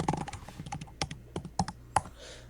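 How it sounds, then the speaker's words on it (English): Fast, close typing on a laptop keyboard, with crisp irregular key clicks and a few sharper strikes over a quiet room. "Your keyboard sounds nice."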